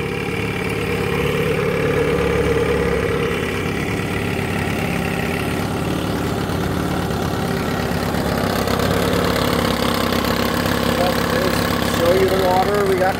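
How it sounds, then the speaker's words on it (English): A 1956 Wizard Super 5 outboard motor, model WH-6, runs steadily at idle, a continuous mid-pitched engine drone with an even putter throughout, loud and close. "the one surprising thing with this motor, it does run well, but it's just not very fast"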